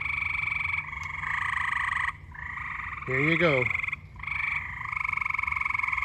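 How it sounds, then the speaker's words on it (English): Frogs croak in a backyard on a summer evening, a steady chorus of rapid pulsed calls with one louder, nearer croak standing out; a voice speaks briefly. "If anyone is looking for some audio of frogs chirping"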